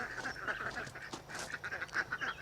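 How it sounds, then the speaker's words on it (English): Ducks at a plant ranch keep up a busy stream of nasal quacks and honks at moderate distance, overlapping in an uneven rhythm over faint background noise. "There's our ducks."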